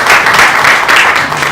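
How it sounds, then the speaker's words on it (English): A business audience applauds a speaker on corporate governance, loud close clapping from many hands, steady and dense across the short stretch. "Can we give him a round of applause?"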